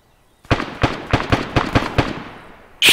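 Gunfire inside a commercial building in the video game Arma 3: a run of about seven sharp, loud shots in a steady rhythm, each followed by a short decay, then another burst right at the end.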